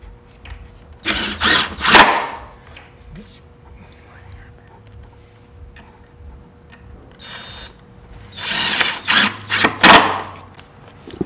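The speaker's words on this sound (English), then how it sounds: "fill these last two holes on the adjuster plate with 2-inch screws that will go through the plate, through the side rail and into the" Power drill driving 2-inch screws through a wall bed's adjuster plate, side rail and head rail, in two loud, close bursts of whirring a few seconds each, separated by a quieter pause.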